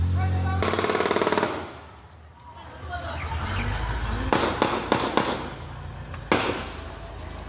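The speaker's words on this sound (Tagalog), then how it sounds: "umalingaw-ngaw ang sunod-sunod na putok" Rapid bursts of sharp gunshots in a roadside ambush on an SUV, several clustered shots near the end, following a loud stretch of noise; a voice is heard briefly.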